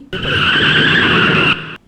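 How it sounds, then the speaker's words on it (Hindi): A car skids to a stop on a highway at night, a sound effect in a Hindi horror audio drama. A loud, steady tire squeal holds for about a second and a half, then cuts off abruptly, with no voices. "जैसे ही गाड़ी रुकी"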